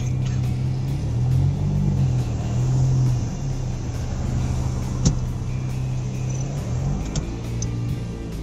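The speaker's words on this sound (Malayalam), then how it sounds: "ഇതൊക്കെ ബസ്സുകളാണ് ഇവിടുത്തെ." Buses passing along a town road give a steady, close engine rumble that swells briefly and then settles, with no voices.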